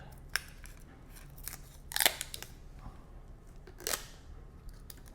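Plastic packaging being pulled and cut off a new microphone, a few sharp crinkles and snips scattered over several seconds, close by and fairly soft with brief louder bursts.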